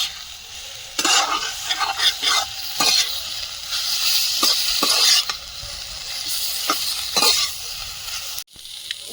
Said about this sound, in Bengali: জিরে গুঁড়ো আর একটু নেড়ে চেড়ে কষিয়ে নিয়ে জল দিয়ে দেবো।